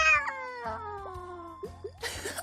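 A cat meows at a door, several drawn-out, rising and falling cries with a louder wail near the end, close and clear over quiet background game audio.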